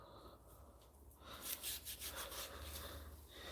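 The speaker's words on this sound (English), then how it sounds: "You just have to scrub." Beetroot being scrubbed by hand for juicing, a soft close rubbing and rasping in short irregular bursts, faint and quiet with no talk.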